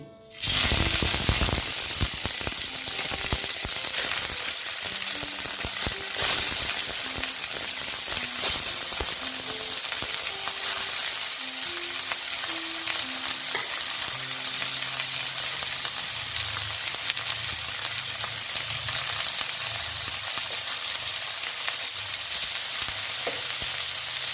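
Boal fish pieces, meant for a patra wrapped in bottle gourd leaves, sizzle loudly in oil in a hot wok, starting abruptly with a sharp burst and then holding a steady, dense crackling fry throughout.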